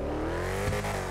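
A drift car engine in GTA 5 revs in a brief, close burst, its steady whining tone climbing slightly before a quick dip.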